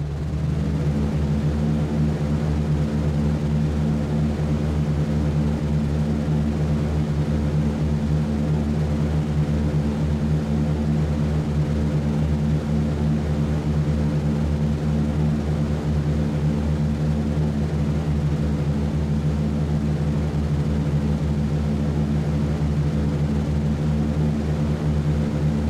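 Four engines of a B-17 bomber in a flight simulator during takeoff, a loud, steady, unbroken droning roar that holds level the whole time.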